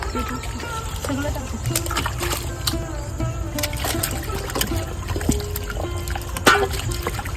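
Close splashing and sloshing of water as yams are rubbed and swirled by hand, with steady trickling and occasional clinks throughout.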